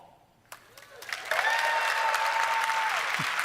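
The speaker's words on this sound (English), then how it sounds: "I don't know why those people in the audience are applauding." An audience at the Microsoft E3 2015 press conference breaks into applause, building from a few claps into a sustained, dense wash of clapping with a faint tone running beneath.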